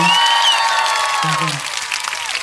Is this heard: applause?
yes